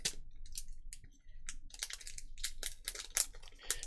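Sealed vintage Topps Pokemon card packs from a 24-year-old tin are slowly torn open up close, giving crisp crinkling and ripping bursts of foil wrapper with short pauses, no talking.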